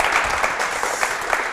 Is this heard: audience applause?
yes